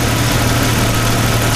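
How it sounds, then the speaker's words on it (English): A car engine idles steadily with a dense, even hum after the fuel pump relay is pulled and the fuel rail is purging, with no talk over it. "So we'll just wait till that purges and the engine dies out."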